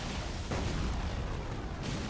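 A weapon's explosion in the video game Elden Ring makes a dense, roaring rumble that fills the whole stretch. It swells briefly partway through with no voices over it.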